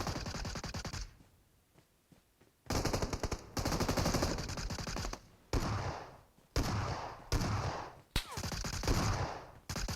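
Loud bursts of automatic gunfire in the shooter game PUBG Metro Royale, long rapid volleys broken by short pauses and single cracks, close and dominant with no talk.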